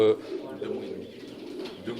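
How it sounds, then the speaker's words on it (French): Young racing pigeon, about two and a half months old and from a line bred for racing for over a century, gives a soft low cooing close by, with a person talking over it. "c'est un pigeon qui est sélectionné depuis plus d'un siècle pour les courses"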